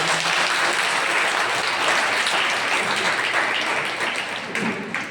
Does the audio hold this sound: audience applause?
yes